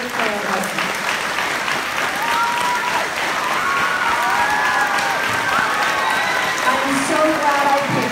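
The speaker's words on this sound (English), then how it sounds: "let's give a round of applause to the teachers of Clara Barton" Sustained audience applause at a school grand opening honoring the teachers of Clara Barton, a dense steady clatter of many hands filling the room with some cheering mixed in, continuing evenly throughout.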